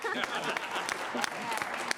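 A late-night talk show studio audience breaks into steady applause for a guest who holds a doctorate, the clapping dense and close with talk mixed underneath.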